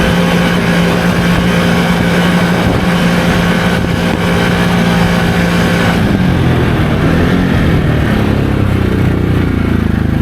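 A 2023 Can-Am Outlander XMR700 ATV on 32-inch Aztec tires driving at around 45 to 50 mph, its engine droning loud and steady throughout with a slight shift in pitch partway through, heavy wind and rumble close up.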